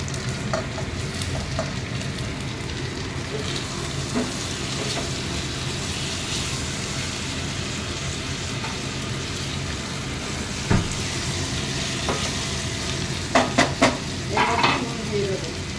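Tomatoes added to lightly browned onions and ginger paste in a pan, frying with a steady sizzle while a utensil stirs and scrapes, giving a few sharper clinks near the end, with no talk.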